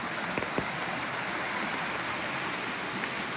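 A mountain stream in a Norwegian forest near Kristiansand runs with a steady, even rush of water, close and continuous, with a couple of faint knocks and no voices.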